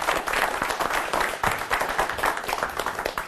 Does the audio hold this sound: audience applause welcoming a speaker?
yes